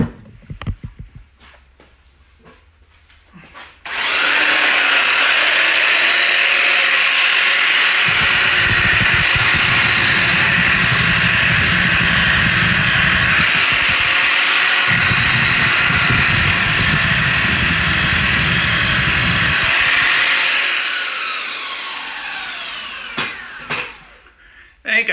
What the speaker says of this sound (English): I'll get the sander in there.